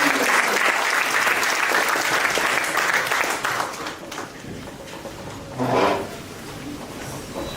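A large crowd applauding loudly and steadily at a college orientation program, then tapering off into scattered claps and a short final burst.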